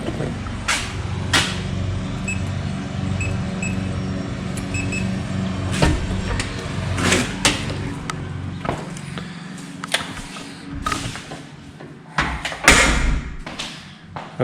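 Newly installed church double doors swing open and shut, giving several wooden thumps and knocks spread irregularly over the stretch, set against low rumbling room noise and no speech.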